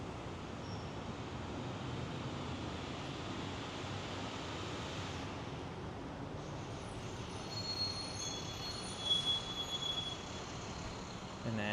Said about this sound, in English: You have the trolley or the tram going over.